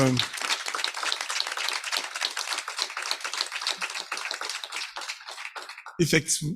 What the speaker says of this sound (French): effectivement les applaudir